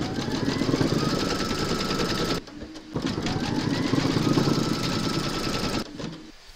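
An embroidery machine stitches an appliqué outline onto fabric held in its hoop, making a loud, fast, continuous mechanical whirr that stops briefly about a third of the way through, then resumes and winds down near the end.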